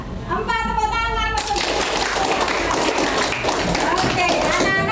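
Classroom of children clapping hands together in quick, rhythmic bursts after a teacher's count, with young voices chattering over the dense clatter of claps.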